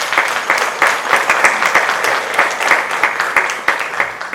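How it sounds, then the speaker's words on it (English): A pageant audience at the Miss Phenix City and Outstanding Teen 2022 competition claps after the talent round, dense and loud applause with sharp individual claps throughout, no voices over it. "Let's give them all a round of applause."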